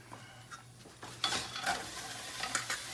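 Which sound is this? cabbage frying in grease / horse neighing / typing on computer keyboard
cabbage frying in grease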